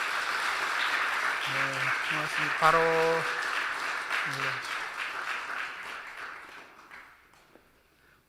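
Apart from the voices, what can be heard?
congregation applauding the church elders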